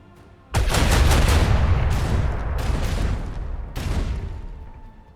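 A ship's weapons fire a rumbling, booming salvo in the Warhammer 40K Rogue Trader game, several heavy blasts rolling together loudly for a few seconds, with no talking.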